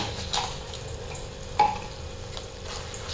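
Eggs frying in a pan with salt and turmeric as they are stirred in, giving a soft continuous sizzle with a few light scraping strokes and one sharp clink of the utensil against the pan.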